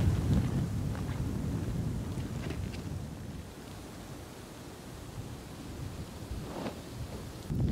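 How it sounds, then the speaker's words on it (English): Strong wind from a winter storm buffets the microphone in a continuous low roar with gusty surges, steady throughout and no voices. "it is very windy"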